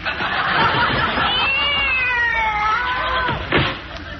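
A cat meows in drawn-out, wavering cries over a busy background of voices and laughter, in an old radio comedy broadcast.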